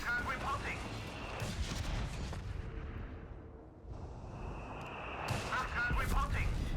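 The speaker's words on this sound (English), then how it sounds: "Raven getting off an anti-tank grenade there on the Arctite, a sticky bomb" An anti-tank sticky bomb grenade goes off in the wartime strategy game Company of Heroes 3. Sharp blasts and crackling battle noise come first, then a quieter lull, then another burst of loud impacts, with voices talking over the fighting.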